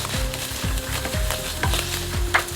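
Sausages and mushrooms in a hot frying pan are stirred with repeated scraping strokes over a steady close sizzle, at a brisk uneven rhythm.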